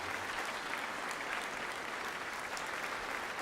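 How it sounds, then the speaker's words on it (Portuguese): Church congregation applauding during a Portuguese-language worship service, dense steady clapping filling the room throughout, with no voice over it. "vamos aplaudir ao Senhor Jesus por cada vida que está chegando."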